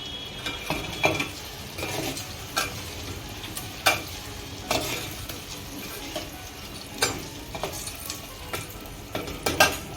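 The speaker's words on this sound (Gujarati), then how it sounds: "પાછું એને એક વખત હલાવી કાઢવાનું" Lightly salted potato dish stirred in a cooking pot over gas, a soft steady sizzle with repeated spoon scrapes and metallic clinks against the pot at an uneven rhythm, close by.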